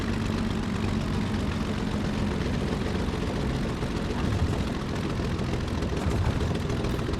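A simulated Bf109 G-6 fighter engine idles after the throttle is cut near Duxford, a dense, steady rumbling drone that holds at a constant level throughout, with no voices.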